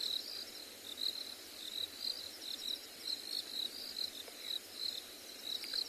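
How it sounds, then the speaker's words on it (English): A distant chorus of red toads drones steadily at sunset, a thin pulsing hum that rises and falls evenly beneath quiet outdoor ambience in wet grassland. "There's a droning of red toads in the distance."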